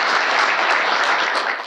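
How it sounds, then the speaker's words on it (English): Loud, dense applause from an audience after a presentation on safety integration for mobile machines, sustained evenly and tapering slightly at the end, with no talk. "Applause to Stefan and to Eddie,"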